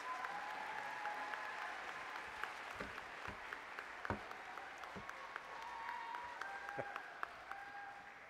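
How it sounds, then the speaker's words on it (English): Faint, distant applause rises from the audience at a college convocation ceremony, a steady patter of clapping with a few sharper claps standing out. "they deserve some applause"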